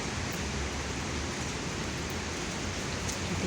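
Steady rain falls on a Hong Kong street, a dense, even hiss with no breaks. It is moderately quiet and unbroken by voices.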